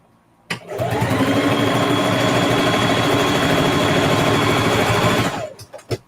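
A sewing machine runs at a steady high speed stitching a quilted zipper pouch, a continuous whirring hum for about five seconds, close and loud, then stops with a few clicks.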